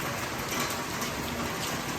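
Steady heavy rain pours down in a continuous dense hiss, close and loud, with no voices over it.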